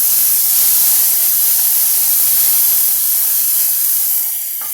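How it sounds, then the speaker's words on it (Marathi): Ground masala paste is sautéed in a hot pan, making a loud, steady, close hiss of sizzling that holds evenly and eases slightly at the end, with no talking. "आता परतून घेऊया आपलं वाटण"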